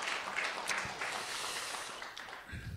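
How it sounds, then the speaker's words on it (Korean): A church congregation applauds in comfort for a member back from a parent's funeral: a steady wash of many hands clapping, moderately faint and fairly even, tapering off near the end. "우리 위로의 박수 한번 해주시기 바라겠습니다."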